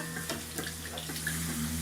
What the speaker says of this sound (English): We've got the water going in.